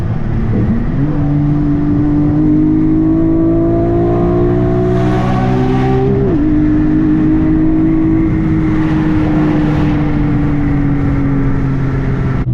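A Nissan Maxima's VQ35DE engine drones loudly and continuously on a freeway, its pitch climbing then dropping sharply at a downshift before rising again, with road noise throughout.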